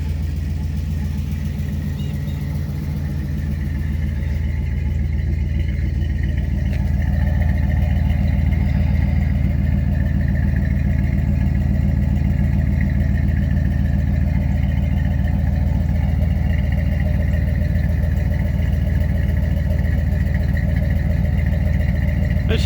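A 1992 Dodge W250 pickup with a 360 LA V8 runs steadily after a cold start, nearing 250,000 miles. A continuous low, even engine drone holds close and loud throughout with no revving changes.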